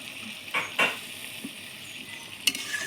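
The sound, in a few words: prawns simmering in Amul milk curry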